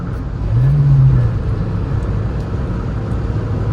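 A Honda Civic pulls away, its engine giving a low steady drone with a brief rise in pitch early on, then a continuous road rumble throughout with no voices.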